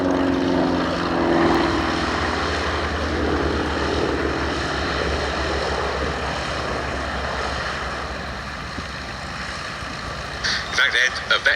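Steady propeller engine drone from a P-47D fighter aircraft at the Duxford Battle of Britain air show, a continuous loud roar holding for about ten seconds before fading, with wind or handling bumps at the end.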